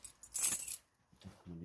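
A bunch of keys jangles briefly at close range while someone fumbles with them one-handed at work abroad, a short bright rattle followed by a pause and a few soft low knocks.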